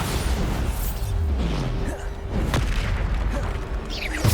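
A Bombarda spell explodes in the video game Hogwarts Legacy with a heavy boom inside dense, continuous combat noise, among scattered bursts and whooshes, loud and close.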